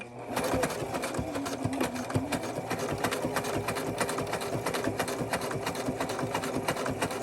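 A sewing machine stitches steadily around a pattern, its rapid mechanical chatter running loud and continuous at close range.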